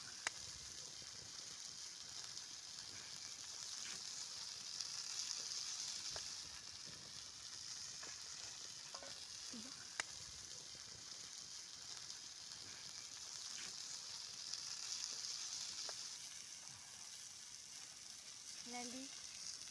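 Fish fries in hot oil on a stone slab over a high fire, giving a soft, steady sizzle and crackle with faint pops, heard from close by and fairly quiet throughout.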